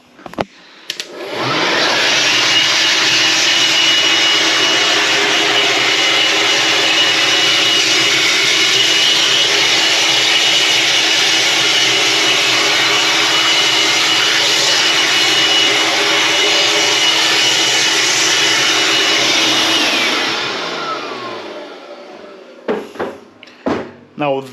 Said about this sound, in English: Then electric blower.